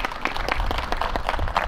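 Applause for members of a hunting club at a fox hunters' competition summary gathering, a dense steady patter of many hands clapping for under two seconds with no talk.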